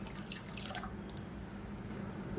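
Water trickles softly into a pot of coconut milk pepper rasam, a faint, close pouring with light drips and no talk.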